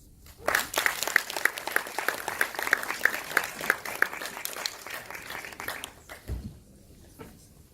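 An audience applauds after a marketing talk on storytelling, a full round of many hands with a few sharper claps standing out, fading after several seconds into quieter room noise and a low thump.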